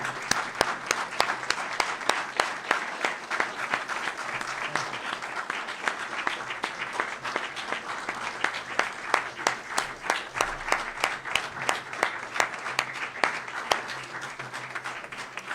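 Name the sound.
round of applause in a room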